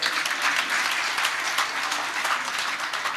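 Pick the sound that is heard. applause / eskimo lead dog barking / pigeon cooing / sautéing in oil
applause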